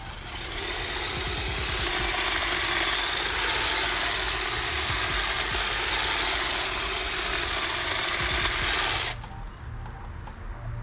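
Toro battery-powered hedge trimmer cutting through thick growth, a steady buzzing motor whine with rapid blade chatter held for about nine seconds before it cuts off to quiet.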